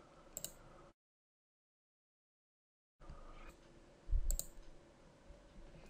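A few crisp computer mouse clicks while working in Microsoft Outlook 2013, brief and close, separated by a stretch of silence against a faint room hum.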